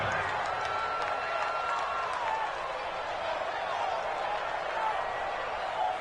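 A stadium crowd in a Madden NFL football video game keeps up a continuous distant roar with scattered applause, held at a moderate level beneath voices.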